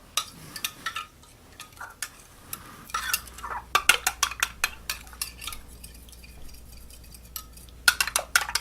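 A spoon stirs a pizza dough mixture in a bowl, making quick, repeated close clinks and taps against the sides in an uneven rhythm, with no talking.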